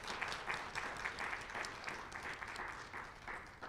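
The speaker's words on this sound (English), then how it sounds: "If we could give them a round of applause." A small group claps steadily for a few seconds, moderately near, the applause soft and even without cheering.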